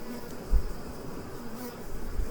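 Honey bees in a swarm buzz around a hive as more fly in to join, a continuous soft drone with a few louder passes close by.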